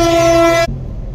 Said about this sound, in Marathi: ट्रेन आली. ही ट्रेन चालली मुंबईला पुण्याच्या दिशेने.